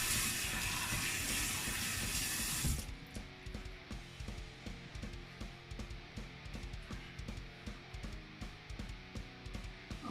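Running tap water splashes loudly for a rinse after a wet shave, then gives way to quieter, rhythmic dripping and splashing sounds.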